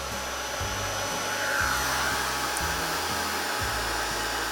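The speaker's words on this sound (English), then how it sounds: "to get your heat gun going" A heat gun blows continuously in a steady, loud whooshing drone, used for drying a mixed media Christmas tag, with a low pulsing hum underneath and no talking.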